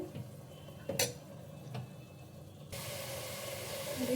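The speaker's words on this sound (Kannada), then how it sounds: "ಸೊ ಹಸಿ ಸ್ಮೆಲ್ಲೆಲ್ಲ ಹೋಗೋವರೆಗೂ ಸ್ವಲ್ಪ ಫ್ರೈ ಮಾಡ್ಕೊಳ್ಳಿ" Soya chunks coated in masala frying in oil in a pan, a close hiss with a few clinks of a spoon against metal, the sizzle swelling louder and steadier toward the end, no voices.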